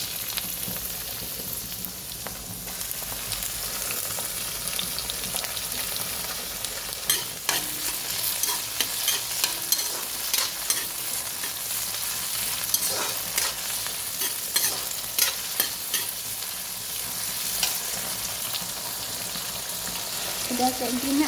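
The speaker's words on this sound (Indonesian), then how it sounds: "Sudah layu, masukkan tomatnya." Tomatoes added to wilted aromatics and frying in a pan: a continuous sizzle with intermittent scraping and stirring clatter. Close and fairly loud, with faint voices in the background.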